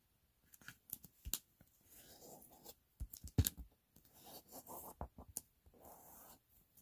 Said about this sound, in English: we're going to fold it in half to make a rectangle